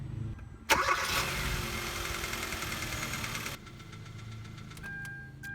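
A Kia Rio engine cranks and catches with a sharp burst after a fresh oil change, revs briefly, then drops to a steady close idle, followed by a few light clicks and a faint electronic chime.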